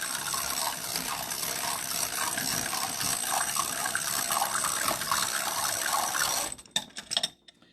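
Half and half or milk is poured over a bread casserole in a home kitchen, a steady liquid pour with splashing that runs continuously and close by for several seconds, then trickles off into a few drips.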